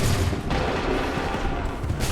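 Musket volleys crackle in Assassin's Creed 3 Remastered, a dense, continuous burst of gunfire filling the whole moment with a brief dip midway.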